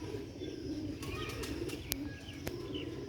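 Soft, low cooing from Sialkoti black-faced pigeons murmurs steadily throughout, with a few faint chirps and brief clicks over a constant background hum.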